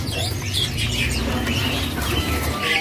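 A Papuan cucak emas songbird chirps in short bright bursts over a constant rushing background noise, moderately close, at a bird shop.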